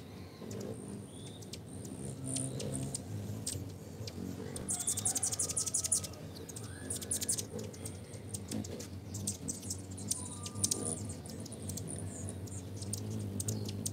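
Many hummingbirds gather at feeders during migration, with repeated high, sharp chirps and brief bursts of wing buzz over a steady busy background.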